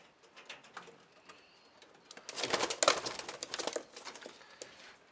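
Racing pigeons in a loft give soft, intermittent coos and rustles, with a busier burst of fluttering and calls in the middle, moderately close and fairly quiet.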